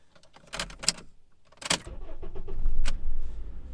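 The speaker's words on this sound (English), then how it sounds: "start the engine, test the key" A Honda's engine cranks and catches after a key jingle and a couple of sharp clicks, then settles into a low idle rumble close by.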